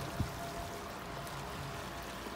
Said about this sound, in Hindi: यहाँ पर नदी वगैरह, रिवर है कोई पता नहीं कौन सी।